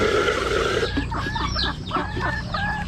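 Hungry RTL chickens before feeding give a rapid overlapping chorus of clucks and squawks, loud and close over a steady background hum, with no speech.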